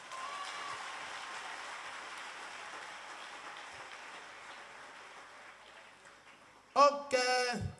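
A church congregation applauds and cheers in a steady, dense wash of clapping that lasts several seconds, then a voice speaks briefly at the end.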